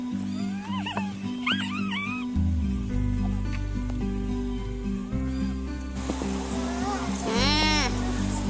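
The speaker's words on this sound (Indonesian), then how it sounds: "Kambing kecil." A small goat gives several short, wavering bleats, a cluster early on and another near the end, over a low steady background rumble.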